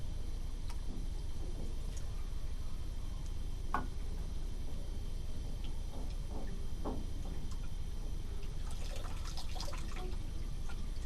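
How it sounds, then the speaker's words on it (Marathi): Water trickles and drips from a container that starts and stops flowing as its level crosses a curved section, with scattered faint splashes and drips over a steady low hum, busiest near the end. "पाणी केव्हा सुरू होतं पडायला आणि केव्हा थांबतंय हे बघा"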